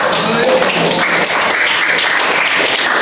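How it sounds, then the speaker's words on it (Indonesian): Loud, close clapping from a class of junior high school students in a classroom, a continuous patter of many hands with some voices mixed in. "Oke, tepuk tangan buat kalian semua."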